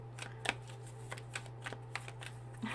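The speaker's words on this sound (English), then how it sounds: "I didn't really shuffle these very well." Tarot cards are shuffled and handled close up, giving soft irregular flicks and riffling snaps over a steady low electrical hum, with no talk.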